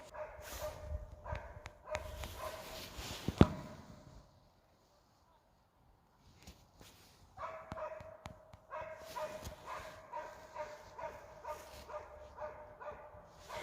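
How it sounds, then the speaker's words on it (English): A dog named Liam barks and yips in the background on a farm with horses, short faint yaps scattered through the clip amid other commotion, with a quiet gap in the middle. "now you can literally hear Liam, Grandma's dog, barking in the background"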